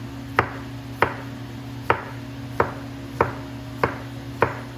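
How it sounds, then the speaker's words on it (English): A knife chopping vegetables on a cutting board while making potato salad, seven crisp even strokes about two-thirds of a second apart over a steady background hum, with no talking. "And I will slice them into long skinny pieces. And then chop."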